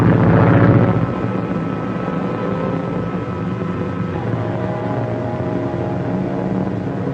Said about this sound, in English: The plane is coming back.